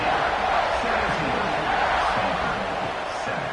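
A large stadium crowd at an Ohio State football game against Stanford just before kickoff gives off a steady, dense roar and murmur under a commentator's voice.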